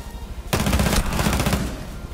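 Rapid pistol gunshots crack in Rainbow Six Siege, a close, loud burst of several quick shots fired in a tight cluster, with no talking.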